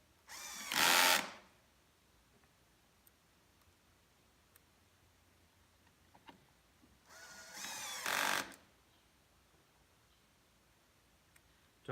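A powered Torx driver spins screws into the top of a Porter Cable 7518 router during reassembly. Two short, close whirring bursts are separated by several seconds of near silence.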